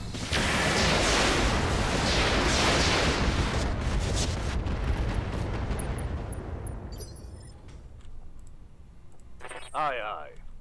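Incendiary weapons firing in the BattleTech mod Roguetech, a loud roaring, crackling barrage of rapid bursts that gradually fades, ending in near quiet with a brief voice at the close.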